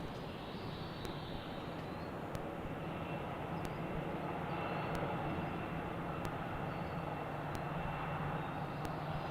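Airbus A321neo airliner engines run at an airport with another A321 nearby, producing a faint, distant, continuous jet roar that holds steady throughout.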